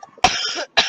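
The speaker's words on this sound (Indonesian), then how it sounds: "kalau saya batuk-batuk" A person coughs, with a long harsh burst followed by a second short cough, close and fairly loud, from someone who is feeling unwell.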